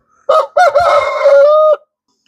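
A single loud Aseel rooster crow, close by, rising through a couple of short opening notes into a long sustained call that cuts off cleanly, with no other sound.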